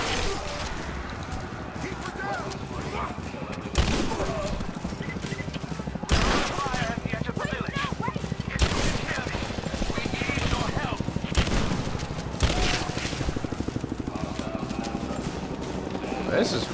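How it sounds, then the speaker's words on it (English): Pump-action shotgun blasts ring out in Rise of the Tomb Raider, repeated booming shots amid a steady clatter of other gunfire, with someone talking over the action. "And I got myself a pump action shotgun now."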